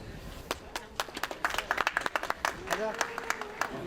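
Applause from a crowd at an autonomous car competition awards ceremony, claps quickening from scattered to dense, with voices speaking over it.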